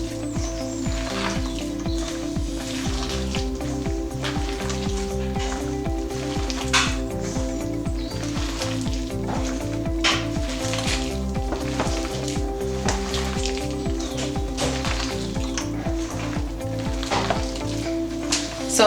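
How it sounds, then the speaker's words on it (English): Onion bhaji batter of onions, potatoes and flour being mixed by hand, giving a continuous wet squishing and squelching texture over a steady background hum, with faint clicks throughout and no talk. "To get a perfect batter, you have to really mix it in with your hands."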